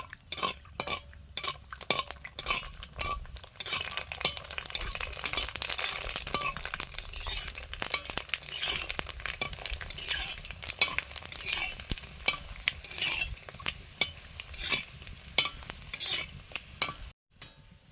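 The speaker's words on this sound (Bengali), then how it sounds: "এখন ফুচকা ভাজছি।" Store-bought fuchka puris fry in hot oil with a steady crackling sizzle, mixed with frequent stirring scrapes and light clinks of a utensil against the pan, close and continuous.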